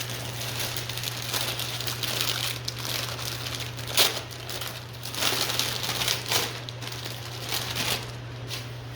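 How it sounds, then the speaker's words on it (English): Rubber gloves being pulled on and crinkling before work on an oil-covered dirt bike chain, giving a steady, close rustle with brief louder crinkles over a low constant hum. "I like to toss on rubber gloves"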